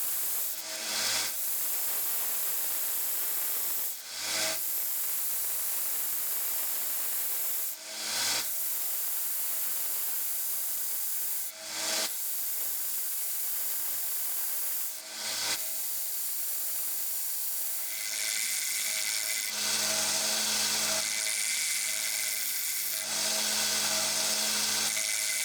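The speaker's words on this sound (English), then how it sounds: "Then I switched to the 120 grit belt. This time I rotated the plumb bob by hand for better control." A 120 grit abrasive belt grinds steadily against a rusty plumb bob that is turned by hand, making a continuous close hissing rasp with brief regular dips every few seconds and a harsher tone near the end.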